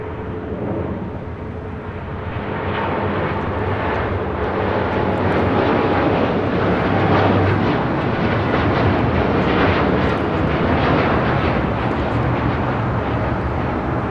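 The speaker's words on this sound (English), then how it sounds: "This is American Airlines Flight 27 taking off to Tokyo Haneda on a 787-8 Dreamliner." An American Airlines Boeing 787-8 Dreamliner takes off at LAX, its engines a loud, broad, sustained roar that swells and holds steady over the whole stretch, with no talk.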